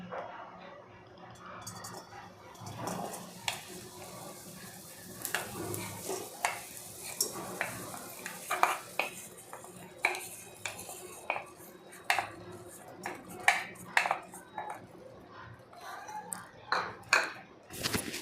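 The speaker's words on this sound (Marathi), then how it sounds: "सात तुपामध्ये छान असं परतून घ्यायचा खालतं वर करून" Jaggery stirred in ghee in a pan for sesame laddoos: a soft, steady sizzle under repeated scraping strokes and sharp metallic clinks of a spoon against the pan, close and irregular.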